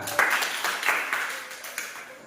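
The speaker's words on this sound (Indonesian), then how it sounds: "tepuk tangan" Several bursts of hand clapping repeat at a steady pace, close and moderately loud, as part of a primary school civics practical activity in Indonesia; no speech is heard.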